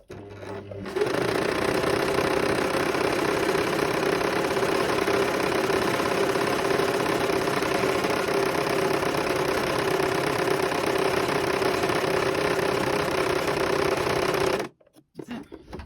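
A sewing machine with a one-step buttonhole attachment stitches a buttonhole in fabric, a fast steady mechanical whirring and clatter that starts abruptly, runs evenly for about fourteen seconds, then stops.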